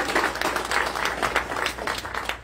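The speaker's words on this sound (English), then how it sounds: "I want to thank just one more round of applause and appreciation for the Millers" A family reunion audience at the Brubaker Families of America annual gathering gives the Millers a round of applause: dense, steady clapping from many hands, moderately loud and sustained for a couple of seconds.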